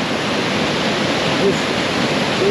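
Panimur waterfall in Dima Hasao, Assam, pours in a dense, unbroken roar, loud and close with no letup.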